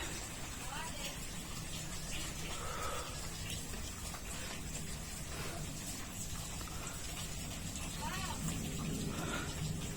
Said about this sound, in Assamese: এয়া চাওক পানী পৰিয়ে আছে, 12 মাহে এনেকে নন ষ্টপ পানী পৰি থাকে।